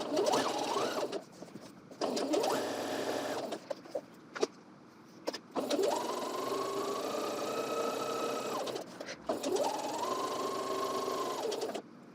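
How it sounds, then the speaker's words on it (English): Sewing machine stitching a coat seam, a motor hum that runs in several bursts of a few seconds each with short pauses between, close and with no talking. "I'm going to do this for both sides and then take that to the sewing machine."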